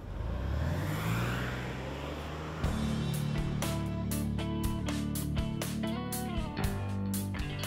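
A 2023 Hyundai Palisade XRT engine fires up smoothly, its start marked by a sudden, steady rise into a quiet, even idle with no stumbling.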